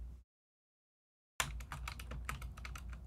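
Rapid keyboard typing after a stretch of silence, a dense run of quick key clicks close to the microphone, no voices.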